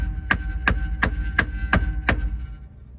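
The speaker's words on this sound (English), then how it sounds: "Give it some taps with the hammer to make sure it seats fully" Six evenly spaced metallic hammer taps ring out in a steady rhythm, seating a yoke onto a Jeep JL axle pinion, close up, over a low mechanical hum.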